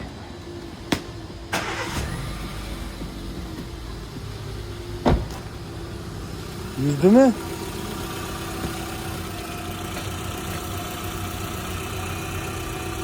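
A repaired Daewoo Matiz engine cranks and starts, then settles into a steady, moderately loud idle, with a few sharp knocks and a brief rising whine along the way and someone speaking briefly over it.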